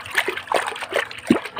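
Water splashing in short irregular bursts while something is washed with dish soap, close and fairly loud, several sloshes and drips over a brief moment with no voices.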